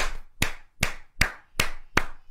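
A church congregation claps in unison, six sharp claps spaced evenly about every 0.4 seconds, with nothing else heard between them.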